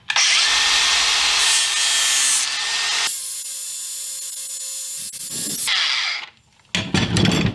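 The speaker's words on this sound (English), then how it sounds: "I'm just going to use this DeWalt 60 volt angle grinder with a flap disc on it. And we're going to just grind that down a little bit." DeWalt 60 volt angle grinder with a flap disc grinding down a Dodge stub axle shaft, a loud, close, sustained high-pitched whine and grinding screech that changes pitch as pressure shifts, then winds down, followed by brief clatter.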